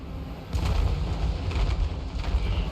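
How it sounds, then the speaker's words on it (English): Artillery volleys thundering across a Total War Warhammer 3 battlefield with a Grand Cathay army, a dense rumbling low roar with repeated booming swells that build from about half a second in and stay loud to the end. "One more volley for the center."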